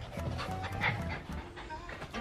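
A dog pants in quick, rhythmic breaths close by, moderately quiet, with a brief whimpering note partway through and no talk.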